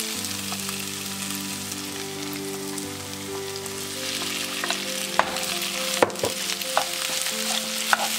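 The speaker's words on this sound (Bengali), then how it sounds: "আলুটা কষানো হয়ে গেলে আমরা এবার পনিরটা অ্যাড করে দেবো।" Paneer cubes frying with potatoes in a thick gravy, a steady sizzle with occasional spoon knocks and stirs over a faint background hum.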